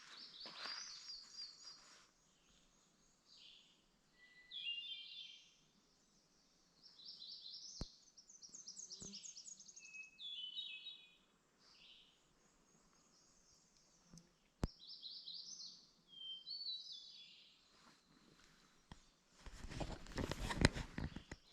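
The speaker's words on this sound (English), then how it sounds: "Whenever you hear a thrush, you know there's water nearby." A thrush sings in a quiet forest, its clear fluting phrases repeating in separate bursts with short pauses between, faint and somewhat distant.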